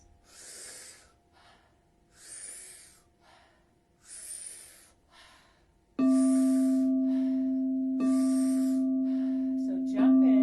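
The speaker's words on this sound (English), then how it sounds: "we're going to be doing 40 to 50 powerful breaths in and out of the mouth" Forceful breathing in and out through the mouth in a rhythmic Wim Hof pattern: about four long, airy breath cycles, fairly close, followed by sustained steady tones.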